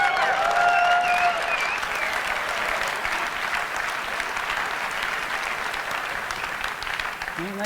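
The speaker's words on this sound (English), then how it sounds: "And the crowd goes wild" Audience bursts into loud applause and cheering with a whistle near the start, the clapping holding strong and then gradually easing while a voice cuts in at the very end.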